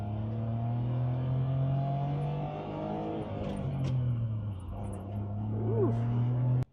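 A Honda Acty kei truck drives and turns, its small engine droning and rising and falling in pitch steadily up close, with a person talking over it.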